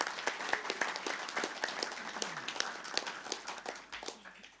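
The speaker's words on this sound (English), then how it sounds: "please give them a big round of applause" Applause for fighters at an MFN mixed martial arts press conference, a crowd of hands clapping in a brisk, uneven patter that stays fairly even and then thins out toward the end, with no speech over it.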